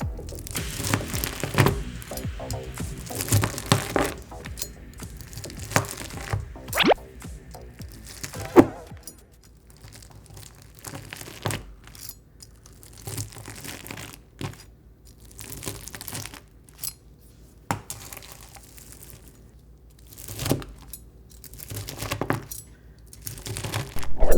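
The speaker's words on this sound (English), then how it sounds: "since I can't really hold it because it wants to fall apart, I'm going to cut it." Slime overfilled with too many ingredients is cut into pieces, giving off irregular crinkly, crackling and snapping sounds in scattered bursts with quiet gaps between them, close up and without talk.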